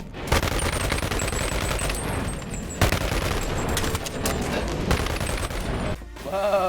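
Uzi fire in the VR game BONELAB: near-constant rapid automatic shooting, loud and close, runs for about six seconds, then breaks off briefly before a voice exclaims.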